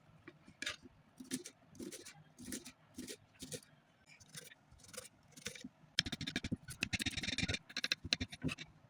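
A knife chops snake gourd into small pieces in quick, crisp taps against a board, faint and close, before a denser run of fast cuts. No one speaks.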